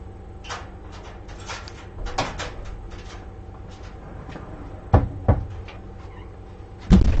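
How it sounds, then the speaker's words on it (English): A dog pushes through a flap-style doggy door indoors, giving a series of scattered knocks and flap clatters, with sharper louder bangs near the end as the flap swings shut, no talking. "He's gone through the doggy door to go out through the other door that goes towards the studio."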